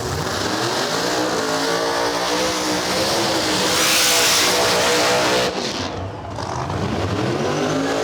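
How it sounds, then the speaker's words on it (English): Camaro drag cars at a no-prep drag racing event at Alabama International Dragway rev hard during burnouts, a loud sustained engine roar with rising and falling pitch, briefly dipping before surging again. "Pro Charge Camaro going up against Ryan Martin here in the left lane with the Fireball Camaro"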